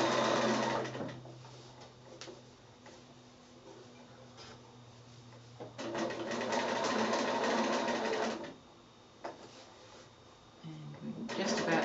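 A sewing machine free-motion sewing a small quilted snap bag runs in short stop-start bursts, close and moderately loud, with a person talking between runs.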